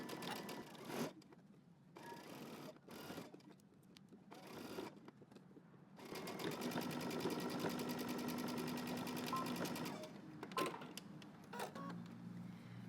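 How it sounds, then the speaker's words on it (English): A sewing machine stitches a jumpsuit sleeve along a U-shaped seam, starting with several short bursts of whirring and then running in one steady longer stretch before slowing, close and quiet. "we're gonna be sewing in a U shape, so back stitch at the beginning and at the end"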